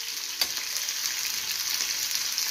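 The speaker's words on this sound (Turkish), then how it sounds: "Tavanın şu tarafı daha iyi kızartıyor." Continuous sizzling and crackling of chicken frying in a hot pan, with a brief clink of a utensil near the start.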